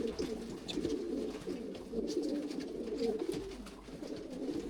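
Breeder pigeons coo steadily and continuously in a loft, a low rolling murmur from several birds that lasts throughout.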